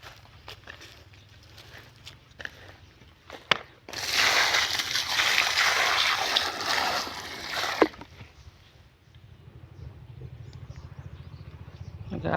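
Water pours from a bucket onto the base of a mango tree, with a loud sustained splashing for a few seconds, framed by quieter footsteps and handling sounds before and after.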